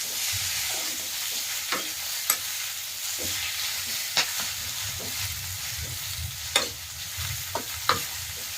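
Frying and stirring in a pan while cooking spinach curry: a steady sizzle runs throughout, with sharp scrapes and taps of a utensil against the pan at irregular intervals, close and alone.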